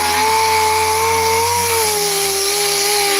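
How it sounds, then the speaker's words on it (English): An electric sander works 80-grit sandpaper over the painted body of a yellow Dodge car, giving a loud, steady motor hum with a constant whining tone and even scraping texture throughout. "Boy, that sanded off quickly."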